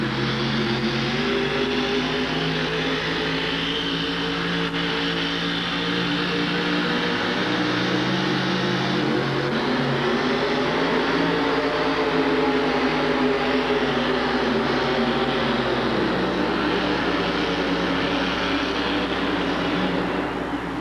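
A Ford monster truck with roughly 1,700 horsepower roars through a short run at a 1987 USHRA event in Houston, a loud sustained engine drone with shifting pitch and no talk.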